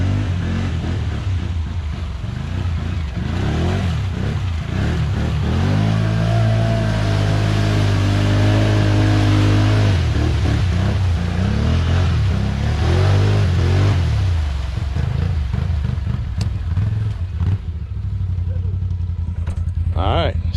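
A 2020 Can-Am Outlander 650 XMR ATV on 28-inch ITP Mega Mayhem tires crawls over rocks, its engine droning and revving nearby with some clatter. A person talks over it.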